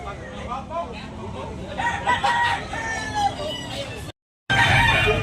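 Gamecocks crow repeatedly over a busy cockfighting crowd murmur, the calls overlapping at moderate distance, with a brief dropout near the end.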